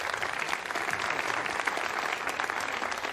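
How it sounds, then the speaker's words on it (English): Applause fills a satellite mission control center after the OPSAT and ISAT satellites separate, a steady wash of clapping at moderate distance with faint voices mixed in. "And you hear the applause"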